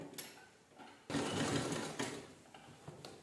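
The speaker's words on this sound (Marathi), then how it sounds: "डबल फोल्ड करायचं आणि पूर्ण राऊंडला आपण स्टिच करून घेऊया" A sewing machine stitches around a double-folded fabric edge. After a short quiet start it runs in one continuous close whirring burst with a steady mechanical chatter, then eases off near the end.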